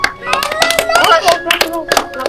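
A person named Buhay clapping hands, a quick run of sharp, close claps with a bright ringing tone in the background and a voice talking over them.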